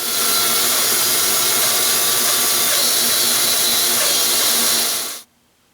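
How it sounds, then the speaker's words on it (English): Band saw resawing a wooden board, a loud continuous whirring cut held steady for about five seconds before stopping abruptly into near silence. "you want to hold this against the fence and gently feed it through. Let the saw do the work."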